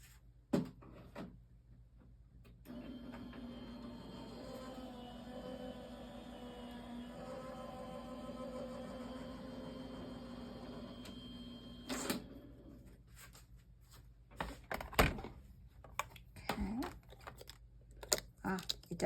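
A die cutting machine feeds a stamped 5x7 soda pop birthday card through, giving a steady mechanical rumble and whir for about ten seconds, followed by handling clatter.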